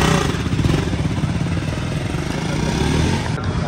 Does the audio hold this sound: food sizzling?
no